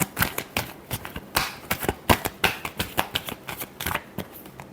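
Tarot cards are shuffled by hand in quick, crisp riffling bursts, close and dry, with a rapid irregular rhythm of flicks and taps and no talking.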